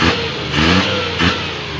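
An overhauled Suzuki 12-valve car engine, unused for over a year before, revs up twice in quick succession, the rising roar easing back toward idle between bursts, close and loud.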